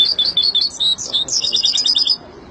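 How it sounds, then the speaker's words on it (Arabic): A free-living European goldfinch sings in rapid bright chirps and twittering trills, close and clear, in two busy phrases with a brief pause between them. "طائر الحسون الحر الفريد من نوعه في التغريد"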